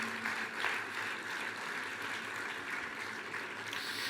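Steady applause from a church congregation fills the whole stretch, a dense even patter of clapping heard from the middle of the room.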